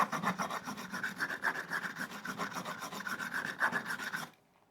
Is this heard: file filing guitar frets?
yes